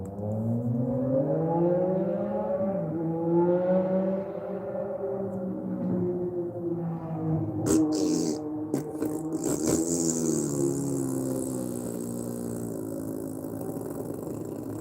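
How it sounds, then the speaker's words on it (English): A car engine revving, its tone rising and falling over a steady hum, broken midway by a few sharp rattling clunks, then settling into a smoother, higher whine. "That sounds like a nice car, right?"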